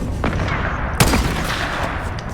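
A hunting rifle fires once in a video game, a single sharp report with a short tail, set against steady game ambience and background noise.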